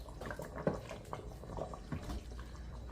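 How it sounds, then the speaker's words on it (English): More liquid goes into an Instant Pot while a chuck roast cooks, with a short run of close, soft splashes and drips and no talking over it. "Go ahead and pour some more in."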